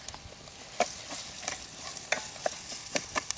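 Tempering seeds, dry red chillies and curry leaves fry in hot oil, giving a soft steady sizzle with scattered sharp crackles and pops, faint and close, with no voices over it.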